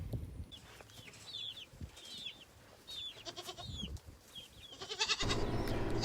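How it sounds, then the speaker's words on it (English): A Nubian goat kid bleats several times on a farm during chores, with high wavering cries close by and a louder bleat near the end over low background noise. "This little guy, a Nubian goat kid, is my helper today."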